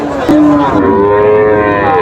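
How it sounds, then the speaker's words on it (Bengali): A Friesian heifer calf at a cattle market gives one loud, drawn-out moo very close by, sliding in pitch and holding for over a second over a murmur of market background. "বেশ দেখেন এটা ফ্রিজেন যাদের একটা বকনা বাছুর দেখতে পাচ্ছি"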